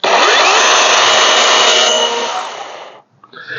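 Small DeWalt battery-powered chainsaw cutting okra stalks, a loud steady whine of the motor and chain biting wood for about two seconds, then winding down and stopping, close up.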